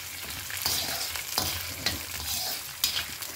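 Dried red chillies, curry leaves and lentils fry in oil in a pan for a sambar tempering, giving a gentle crackling sizzle with intermittent scraping stirs.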